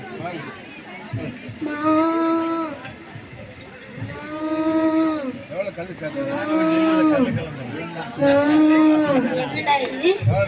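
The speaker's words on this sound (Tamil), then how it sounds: "மாடு கத்திக்கிட்டே இருக்கு." A cow moos again and again in long, drawn-out calls with short pauses between, loud and close, with a faint background murmur.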